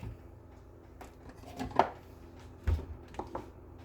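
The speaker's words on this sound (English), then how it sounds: "It makes it a little easier if you go ahead and you quarter your large tomatoes like this" A knife cuts through large ripe tomatoes on a board, quartering them before canning them as diced tomatoes, a few soft, close thuds and squelches spaced apart in a quiet kitchen.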